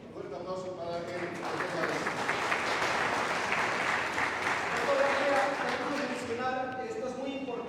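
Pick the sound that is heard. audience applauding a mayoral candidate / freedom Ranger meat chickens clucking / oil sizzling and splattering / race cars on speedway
audience applauding a mayoral candidate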